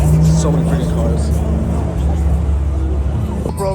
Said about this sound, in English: Dude, so many freaking cars.